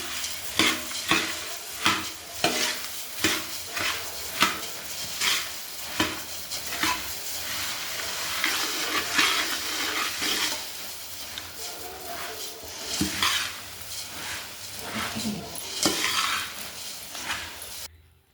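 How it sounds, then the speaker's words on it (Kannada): Puffed rice being stirred into leftover tempering in a pan, with a steady scraping, rustling stir and light sizzle repeating in close, continuous strokes throughout. "ಇದು ನೋಡಿರಿ, ಉಳಿದಿರೋ ಒಗ್ಗರಣೆ ಈಗ ಚುರುಮುರಿ ಮಿಕ್ಸ್ ಮಾಡ್ತಾ ಇದ್ದೀನಿ."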